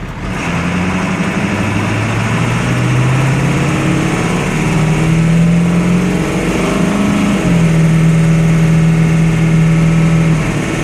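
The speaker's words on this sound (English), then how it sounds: "And I'll turn it on. Fires right up." A 1997 Ford F-350 pickup truck engine catches and settles into a loud, steady idle with a constant low drone and faint tonal hum, running alone without talk for the whole stretch.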